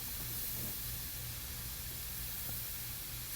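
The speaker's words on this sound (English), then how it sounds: "my white, my micron airbrush, make sure it's spraying okay" A micron airbrush spraying white paint gives a steady, even hiss of air that runs continuously and fairly faintly, with no talking.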